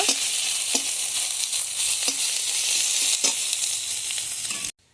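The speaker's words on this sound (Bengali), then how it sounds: "রসুন বাটা দেব দুটো তেজপাতা দিয়ে দিলাম এখন এগুলো সব এখন ভালোভাবে ভেজে নেব" Garlic paste and bay leaves frying in hot oil, a loud steady sizzle close up, punctuated by occasional stirring scrapes, then cutting off abruptly near the end.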